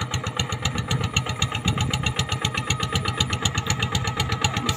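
A tractor engine chugs with a steady rapid pulse as it plows a deep, muddy field with a harrow, loud and close, running alone without voices.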